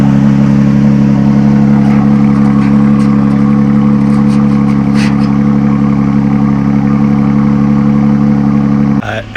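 A vehicle engine sitting on a trailer runs loudly and steadily with a strong low hum throughout, then cuts off abruptly near the end.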